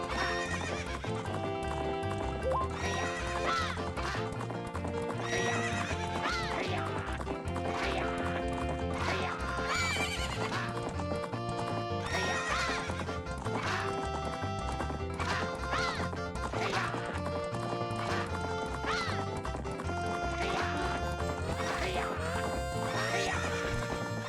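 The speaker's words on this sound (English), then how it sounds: "This is kind of a shrimpy horse." Horse in a Zelda video game galloping around a race track, with steady clip-clop hoofbeats and repeated neighs and whinnies over continuous game music and occasional talk.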